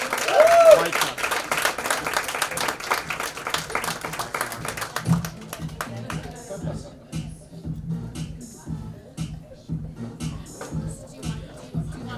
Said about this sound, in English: You guys gotta give a big round of applause.